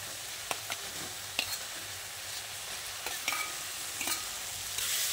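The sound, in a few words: stirring fried potatoes and pointed gourd into masala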